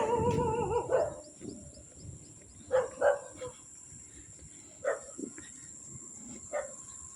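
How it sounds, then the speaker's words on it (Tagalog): A dog barks several times at a distance from a school, short separated yelps spread across the clip over a quiet outdoor background with faint insects. "May aso pala sa school."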